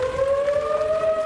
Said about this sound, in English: Sirens blaring before dawn in North Texas.